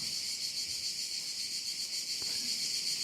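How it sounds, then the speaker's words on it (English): Dense chorus of many cicadas in summer, a steady high-pitched shrill drone that fills the whole stretch without pause, loud and unbroken, with no other sounds standing out. "It was not a bird. It was the sound of a cicada. Well, many of them."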